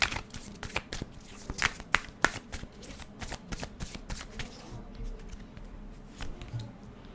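Tarot cards riffled and shuffled close up during a collective love tarot reading: a steady run of quick papery flicks and slaps, louder in bursts early on, with no talking.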